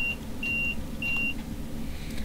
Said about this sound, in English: What you heard here was the alarm for the vigilance system.